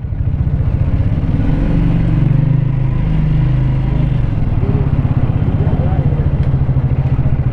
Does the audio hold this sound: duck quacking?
no